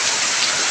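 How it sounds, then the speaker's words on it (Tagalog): Small hailstones falling outdoors in Fairview, a dense, steady pattering hiss of ice hitting surfaces, continuous and fairly loud with no voices. "Umulan ng yelo."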